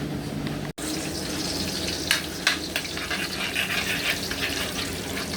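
Garlic, onion and tomato fry in hot oil in a pan, a loud steady sizzle broken by a brief silent cut, with sharper crackling bursts and stirring scrapes later on.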